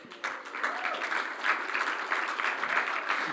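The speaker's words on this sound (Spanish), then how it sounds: "denle un aplauso más fuerte" Church congregation applauding steadily throughout, a dense, continuous wash of clapping that swells slightly after the start and holds at an even level.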